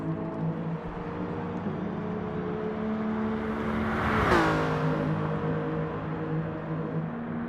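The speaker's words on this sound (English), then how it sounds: "Enjoy these engine noises for the next couple minutes." A race car engine in Gran Turismo Sport at Monza drones at a steady high pitch, then swells as a car whooshes past close by near the middle and fades into continued engine hum.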